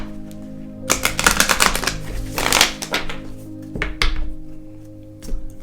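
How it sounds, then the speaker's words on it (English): Tarot cards shuffled in bursts of rapid riffling clicks, a loud flurry early on and shorter ones later, close up over a faint steady hum. "I'm going to shuffle again"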